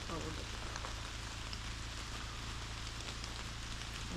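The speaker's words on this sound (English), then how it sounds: "It's still raining." Rain keeps falling outdoors in the Adirondacks on a cold day, a soft steady hiss and patter that stays even and fairly faint throughout, with no pauses.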